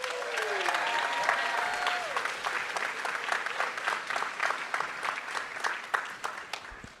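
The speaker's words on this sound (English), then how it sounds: "So pay attention and give a very big round of applause for Alyssa Rosenberg." Big round of audience applause at a National History Day welcome ceremony, dense clapping from a large crowd that starts full and gradually thins and fades, with a voice briefly heard over the start.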